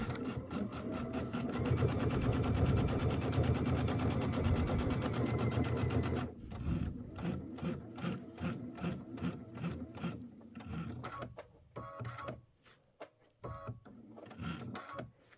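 A sewing machine stitches a quilt block for a Christmas quilt, running in a rapid mechanical rattle for several seconds, then in shorter stop-start bursts of stitching. Close and clear, with no talking.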